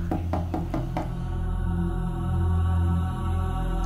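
Several knocks on a door sound in a quick uneven run at the start, then give way to a steady low droning background that carries on alone.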